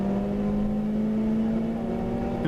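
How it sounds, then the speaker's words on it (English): A Honda Integra engine revs hard during a car race, a loud steady whine that climbs slightly in pitch through the VTEC range, close and continuous with no voices. "Big puff of VTEC"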